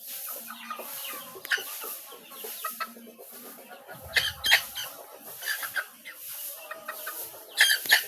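Farm chickens being raised for fast growth cluck and squawk steadily and close up, with some louder squawks and faint background noise throughout.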